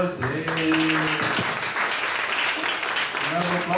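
Audience at a business talk breaking into sustained, fairly loud applause that carries on steadily, with some voices and tonal sounds mixed in at the start and end.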